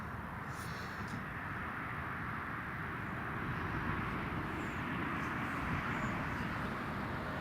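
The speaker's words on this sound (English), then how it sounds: "That's the Diamond just landed." A Diamond light aircraft landing at Newcastle International Airport, heard as a steady, distant broadband rumble and rush that holds at an even level throughout without clear peaks.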